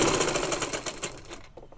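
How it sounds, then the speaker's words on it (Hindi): A sewing machine stitches the belt onto a young girl's fabric top, a fast steady mechanical rattle close up for under two seconds, slowing at the end. "अब बेल्ट को बैलेंस पे रखते हुए इस तरह से मैं सिलाई लगा दूंगी"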